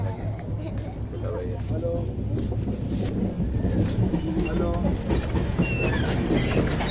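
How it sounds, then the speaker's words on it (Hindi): Steady rumble and rhythmic wheel clatter inside a 3rd AC sleeper coach of the moving Pawan Express, an Indian Railways train, continuous and fairly loud throughout with faint background voices. "आपको 3rd AC का एक टूर करवा दिया जाए पवन एक्सप्रेस के"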